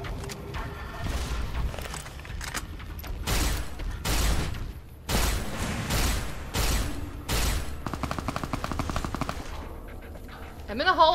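Gunfire from Fallout: New Vegas rings out in loud bursts of rapid automatic shots, separated by short pauses, with a player's voice in the background.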